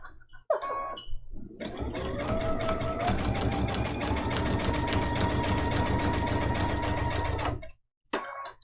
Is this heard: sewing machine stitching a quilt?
yes